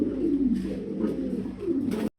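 A pair of high-quality fancy pigeons coo in low, rolling phrases, close and steady, with two swelling calls before an abrupt cutoff at the end.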